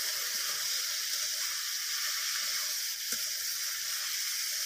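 Bitter gourd and potatoes with turmeric and salt sizzle steadily in a hot pan as they are stirred, a continuous close hiss with a faint scrape partway through.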